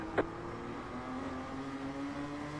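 A steady engine drone with a sustained tonal whine, like a race car running at high revs during a Friday night feature race, traction control cutting in, with one brief sharp burst near the start.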